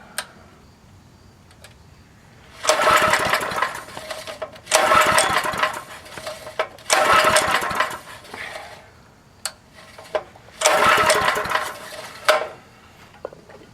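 Craftsman 5 hp 2400-watt generator engine, a Craigslist freebie, fires in several separate loud bursts of a few seconds each, choke being adjusted, with quieter gaps between runs.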